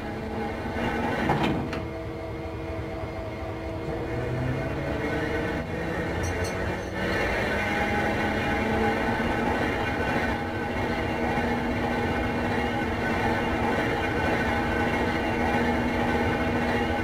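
Locomotive turntable rotating in the Train Sim World game, a continuous low mechanical rumble and grind with a faint rising whine and a few metallic clanks, steady and fairly loud.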